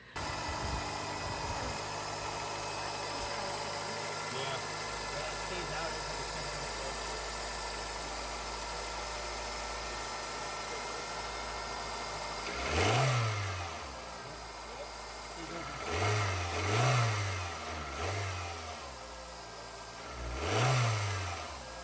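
A car with a laggy gas pedal idles with a steady low drone, then revs up four times in short rising and falling bursts, close to the engine.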